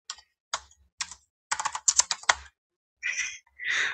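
Keys clatter on a computer keyboard while a web hosting signup form is filled in, a few isolated taps followed by a quick burst of close typing, then brief brushing noises, with no speech.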